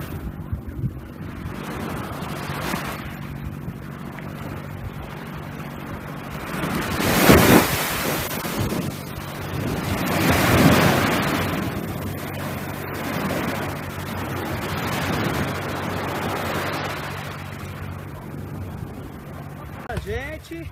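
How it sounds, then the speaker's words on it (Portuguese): Sea waves surge and break on the shore at Provetá on Ilha Grande, a steady roaring wash with swells building and fading, buffeted by wind noise on the microphone and with voices around. "A onda bateu aqui no vestido, molhou tudo."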